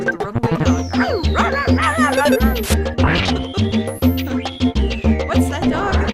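Runaway dog in the game EarthBound, rendered as short repeated yips and barks over looping chiptune music with bright sweeping synth tones, steady and loud throughout.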